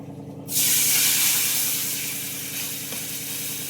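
Tamarind juice is poured into hot oil in a pan, bursting into a loud, close, hissing sizzle that swells sharply and then settles into a steady, slightly quieter frying hiss, with no speech.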